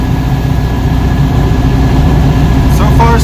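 A car engine pulls steadily in fourth gear through a 002 transmission on a test drive, giving a loud, continuous low drone heard from inside the car, with a brief voice near the end.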